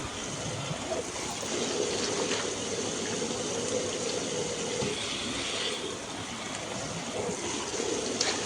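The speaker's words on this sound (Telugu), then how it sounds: "ఇలా వాటర్ పోసుకొని" Steady running water splashes continuously, poured over snakehead fish in a basin, with a constant rushing texture throughout.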